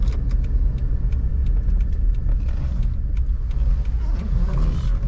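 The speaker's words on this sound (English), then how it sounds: "Okay, we'll park it here." A Suzuki Jimny 1.3 with a manual gearbox is being parked, its engine a steady low rumble with faint ticking and jangling on top, close and continuous.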